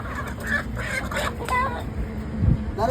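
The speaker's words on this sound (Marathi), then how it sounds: "आता ठेवतोय कोंबडे लॉक करतोय" Kadaknath chickens clucking as they are shut in for the night, a cluster of soft, nearby clucks over a low rumbling background, with one louder fluttering scuffle near the end.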